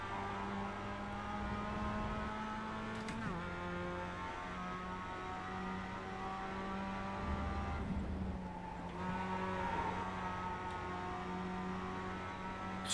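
A racing car engine in the Assetto Corsa or iRacing sim racing game, a sustained droning whine that rises in pitch, drops sharply at gear changes, then climbs again, heard alone at moderate level.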